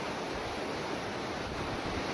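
Ocean waves surge and break onto a Florida beach at Wilbur-by-the-Sea after Hurricane Nicole, a loud, unbroken roar of heavy surf with wind noise mixed in.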